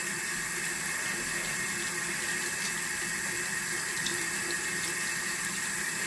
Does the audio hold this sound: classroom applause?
no